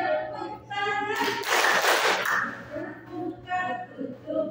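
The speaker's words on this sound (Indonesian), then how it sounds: "Tepuk tangan." A group at an Indonesian training session claps hands together in a short burst during a follow-along movement game, the clapping set between stretches of a voice leading the activity.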